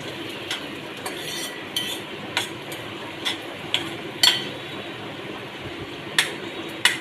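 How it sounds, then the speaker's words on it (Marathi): Spice mixture of mustard seeds, cumin, curry leaves, onion and chilli stirred and fried on low gas, with a faint sizzle broken by regular light metallic taps and scrapes of a spoon against the pan. "असं हा मिश्रण सगळं एकत्र करून असं ढवळूचा स्लो गॅसवर लालसर होईपर्यंत चांगला परतून घ्यायचा असा।"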